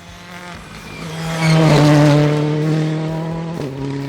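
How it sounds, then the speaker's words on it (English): A rally car pushes hard through a wet stage, its engine rising to a loud, strained whine near the middle and then easing back, with tire noise under the revs. "Scotland's Andy Scott was surely having a true test in the car now on wet conditions."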